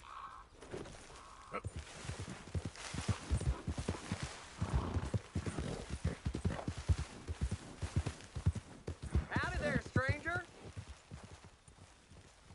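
A horse walks in Red Dead Redemption 2, with rhythmic clip-clopping hooves steady and fairly close throughout, a short whinny near the end, and a voice speaking over it.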